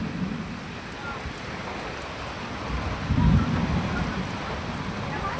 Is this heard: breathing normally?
no